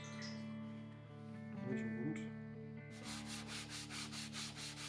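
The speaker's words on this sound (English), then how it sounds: "Now I use sandpaper." Sandpaper rubbing over the wood of a guitar neck at a bird's beak joint, a close, steady scratchy rasp that turns into rhythmic back-and-forth strokes over a low hum.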